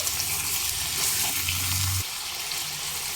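Washed, drained mutton hisses in a pan over a medium flame, a close, steady sizzle with a sudden burst of louder spitting as the meat hits the oil, then settling.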